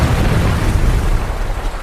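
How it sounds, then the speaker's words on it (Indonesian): A huge detonator-triggered explosion from the 2017 film Cold Skin roars as a loud, broad blast that fills the whole moment and rumbles on briefly, with no voices over it. "Seketika ledakan dahsyat pun terjadi"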